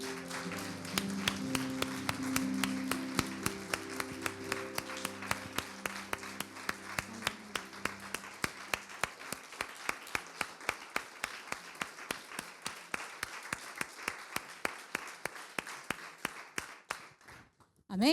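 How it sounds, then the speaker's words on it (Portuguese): A church congregation claps steadily in a regular rhythm through a Portuguese-language worship service, with voices and musical tones underneath early on before the beat continues alone and gradually softens. "E dê uma linda salva de palmas a Ele,"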